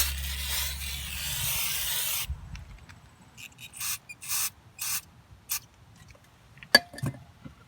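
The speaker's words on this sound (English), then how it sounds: "I'm gonna give everything a quick spray of brake cleaning and brake nettoyage à frein, or brake cleaner, and then wipe it down" Brake cleaner sprayed onto the caliper of a 2011 Kia Forte, a close steady aerosol hiss lasting a couple of seconds, then a series of shorter separate bursts of spray.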